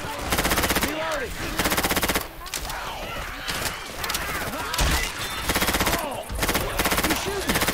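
Sustained rapid machine gun fire from the Left 4 Dead 2 zombie game, dense repeated bursts with brief gaps, loud and continuous under shouting players.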